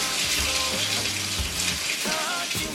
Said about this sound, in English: fill up your tub with water